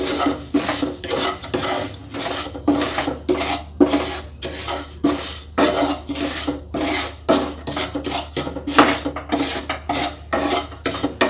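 Semolina for a ghee-based halwa is roasted in a pan, a dry, rhythmic rasping scrape of the spoon pushing grains around, repeating about once a second, close and fairly loud with no speech.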